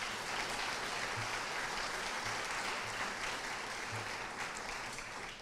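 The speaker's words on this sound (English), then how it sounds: "So give yourself a big round of applause," Steady, full applause from a large audience at a 4-H state awards ceremony, dense continuous clapping sustained throughout at even volume.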